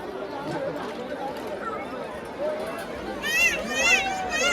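Dense crowd at the Mhasa Jatra fair, a steady mass of overlapping voices and chatter close around, with brief high-pitched tones rising above the hubbub near the end.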